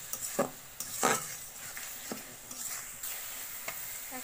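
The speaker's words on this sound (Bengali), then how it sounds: "এখন টমেটোগুলো দিয়ে দিলাম, দিয়ে ভালোভাবে টমেটোগুলোকেও একটু কষিয়ে নেব" Chopped tomatoes sautéing with masala in a pan for a beef-and-fish curry, a soft steady sizzle broken by several scraping stirs and clinks of a spoon against the pan, close and fairly quiet, with no talking.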